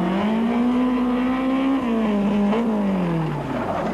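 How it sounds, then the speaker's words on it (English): Lappies Labuschagne's Nissan Langley rally car races into a stage at the 1986 Nissan International Rally, its engine holding a loud, close, steady drone before easing off slightly, with no one talking. "Geen tyd word verspil as Lappies Labuschagne met sy Nissan Langley die traject binne gejaag kom nie."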